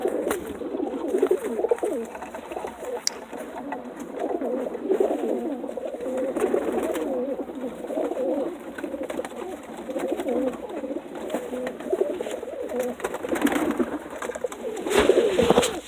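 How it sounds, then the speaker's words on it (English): An Archangel pigeon, a yearling bird, coos repeatedly at close range in low, rolling murmurs that run steadily through the whole stretch with no talking. "This right here is an Archangel pigeon."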